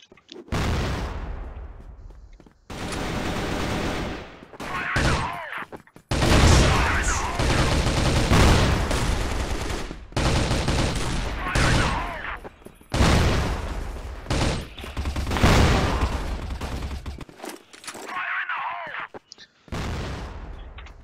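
Rapid bursts of gunfire from the video game CrossFire in a team deathmatch, loud and repeated with short pauses between volleys, mixed with booming shots and occasional talk.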